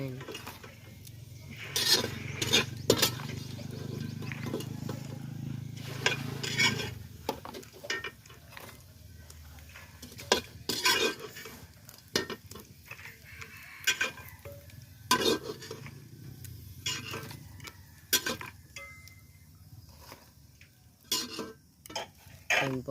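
Kikiam and pan-fried potatoes being stirred in a pan, a metal ladle scraping and clattering in irregular bursts over a low steady frying sizzle, close and fairly loud.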